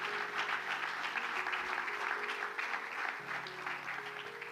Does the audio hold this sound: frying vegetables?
no